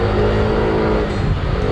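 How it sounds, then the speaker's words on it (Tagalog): A Yamaha Aerox scooter engine runs loud and steady at a shop, a continuous close drone that holds level throughout with no speech over it. "pasok mo na yung motor mo"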